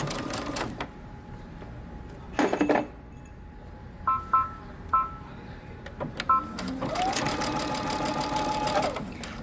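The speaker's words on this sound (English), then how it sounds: "Okay, we're going to back stitch at the beginning." Sewing machine stitching fabric for a dress, several short back-and-forth runs for a backstitch followed by a longer steady run of stitching, close and fairly loud with brief pauses between bursts.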